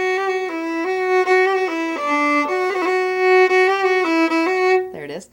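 A fiddle plays a slow five-finger roll ornament, clear bowed notes stepping between pitches with small ornamental flicks, ending with a brief sliding tone.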